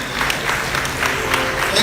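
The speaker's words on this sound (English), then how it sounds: "A round of applause for them," Audience applause after a fusion dance performance at a graduation ceremony for the royal prince of Asanteman: brief, busy clapping from a crowd over a faint background hum.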